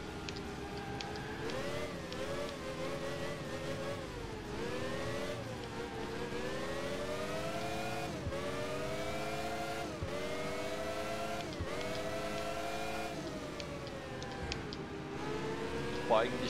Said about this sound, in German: Boah, dieses Schaltgeräusch ist so geil.